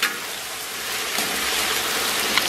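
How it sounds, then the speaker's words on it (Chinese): Hotpot soup base stir-fried in chili oil in a wok, giving a steady, dense sizzle and crackle close up with no pauses and no voices. "继续给它煸炒一下，继续给它炒香炒化"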